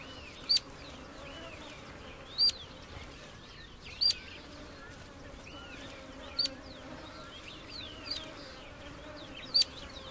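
Flying insects buzz softly in the desert, a faint continuous drone with sharp, brief chirps recurring every couple of seconds above it.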